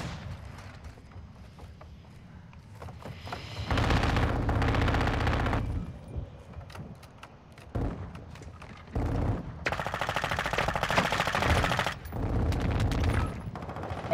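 Bursts of automatic gunfire in Modern Warfare 2 strike a building, loud sustained volleys in several stretches separated by brief quieter gaps with low rumble.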